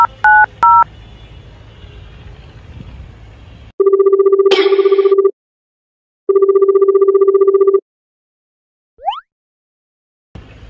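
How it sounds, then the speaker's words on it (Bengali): A telephone call being placed: a quick burst of DTMF dialing beeps over faint background hum, then two long steady ringback tones separated by silence, followed by a brief rising electronic chirp. "বক্সারের একটা কল দিল।"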